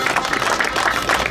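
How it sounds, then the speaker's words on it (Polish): A crowd applauds a rider at a 2019 Eliminator cycling race in Mielec, with steady, dense clapping that fills the space evenly and sounds close, with no clear voices on top. "wielkie brawa!"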